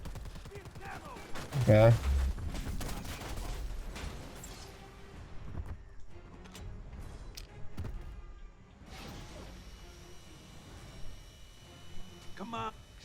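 Gunfire during a Predator Hunting Grounds fireteam match, scattered bursts and single shots with a loud burst early on, set against game ambience while someone talks over the action.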